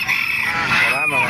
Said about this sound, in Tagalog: May mga gansa oh.